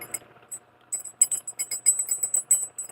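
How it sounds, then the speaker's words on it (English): Chains and jade jewelry jangling on a necklace make light, bright metallic clinks and rattles in short irregular bursts, close and fairly quiet, with no one speaking. "This lies on top of it, and those are those chains you hear."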